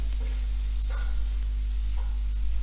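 A paneer and spinach mixture frying in a pan, giving a steady close sizzle under a constant low hum, with a couple of faint stirring scrapes and no talk.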